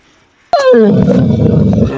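A dog lets out a sudden loud yelp that slides downward into a whining growl, close and sharp, followed by rough continued vocalizing during an encounter with a porcupine.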